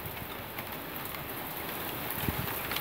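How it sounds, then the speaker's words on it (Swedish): Heavy rain pours outside during a thunderstorm, a dense, continuous hiss of drops on surfaces at steady volume with no talking. "Titta, här kommer ösregn."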